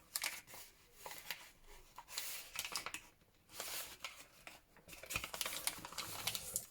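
Paper cut for a spring journal makes crisp, close snipping and rustling in quick irregular bursts, with a short quiet pause midway, faint and alone.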